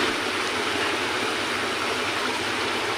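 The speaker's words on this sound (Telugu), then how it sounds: "దాంట్లో కొన్ని వేసి వేయించుకుందాము" Drumstick pieces fry in a pan with a steady, dense sizzle that holds at an even, fairly loud level throughout, with no voices.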